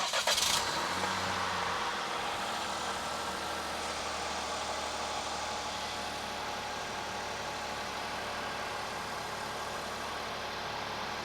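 A Chevy Trax engine cranks briefly and fires up, then settles into a steady, low idle that hums evenly for the rest of the stretch, close by in a garage setting after an oil change, with no voices.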